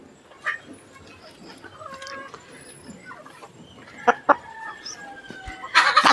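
Farmyard chickens cluck in short, scattered bursts at close range, with a louder squawking flurry near the end and a few sharp knocks in between.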